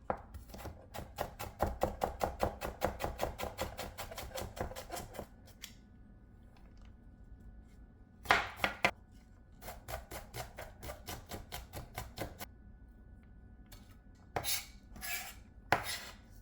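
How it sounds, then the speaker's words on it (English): A knife dices onions on a cutting board for a chicken, spinach and cheese croissant appetizer, giving a fast, steady run of close, crisp chops, then a pause and shorter clustered strokes, with no talking. "Okay, I'm gonna dice some onions."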